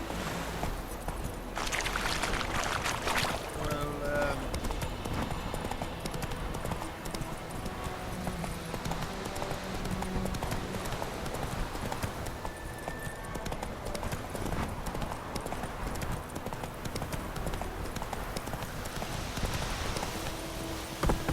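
Horse hooves clip-clop at a steady trot in The Witcher 3 video game, a continuous rhythmic beat that runs the whole way with a few faint background sounds.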